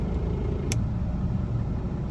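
A van engine idling steadily in a cold Arctic setting with little load on it, a constant low rumble throughout with one brief click.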